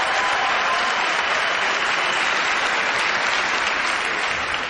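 Dense, steady audience applause fills a TV talent show studio, loud and unbroken throughout with no voices over it.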